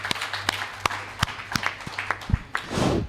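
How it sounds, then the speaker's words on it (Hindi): Sparse applause at a Hindi comedy poetry show (hasya kavi sammelan): a handful of separate, sharp claps spaced irregularly over a few seconds, with a brief louder rustle at the end. "मैं चाहता हूं उनके सम्मान में जोरदार तालियां।"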